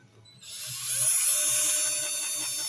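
A power polisher spins up on a foggy headlight, rising quickly into a high, steady whine that holds without any talk.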